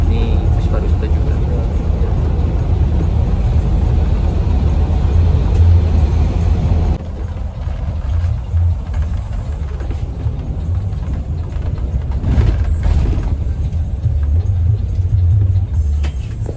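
A tourist bus rolls past in a deep, continuous rumble with broadband road noise, loud and close throughout, swelling slightly near the end.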